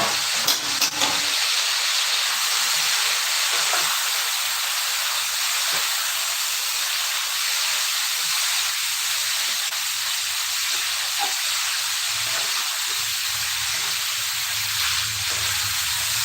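Water spinach (kangkung) stir-fries with garlic in a pan, a loud continuous bright sizzle and hiss with occasional soft clicks of stirring, close by.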